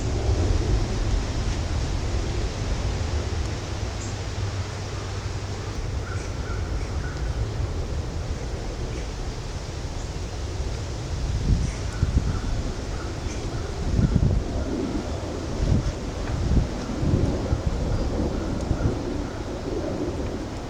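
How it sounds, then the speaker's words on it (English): Strong wind buffets an outdoor setting beside a waste oil burner, a loud, broad, continuous roar on the microphone with gusts swelling and easing throughout. "It's a little windier than I'd like, but not much we can do about that."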